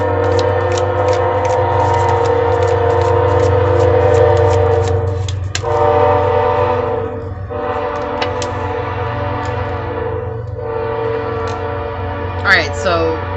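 A passing train sounds its horn in one long, loud, sustained blast that breaks off briefly and resumes twice. Clattering wheels run underneath, and a brief voice comes in near the end.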